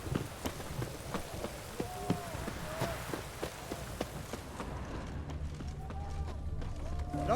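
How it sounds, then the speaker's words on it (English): Rain falls steadily in The Witcher 3: Wild Hunt, a soft wash over a riverside setting with regular hoof or footstep clops throughout and voices talking in the second half. "It's damp. It's raining."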